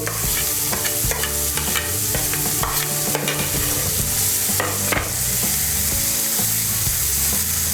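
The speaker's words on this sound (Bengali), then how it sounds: "পেঁয়াজ কুচিটাকেও হালকা করে একটু ভেজে নেব।" Chopped onion frying and being stirred in a pan with garlic and ginger for a Bengali chilli egg dish, a steady loud sizzle with repeated scraping stir strokes throughout, no talking.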